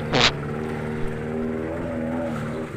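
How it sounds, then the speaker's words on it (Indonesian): A car drives past on a rough dirt nature road. A brief hiss comes first, then a steady low engine hum and drone holds at moderate loudness throughout, with no voices. "kalau saya dengar memang ada mobil lewat sini"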